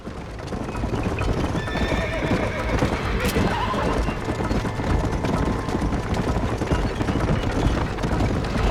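Wild horses in the Western game Red Dead Redemption clip-clop at a steady gallop, hooves drumming close and continuous while a horse whinnies once midway, with a voice speaking faintly under the hoofbeats.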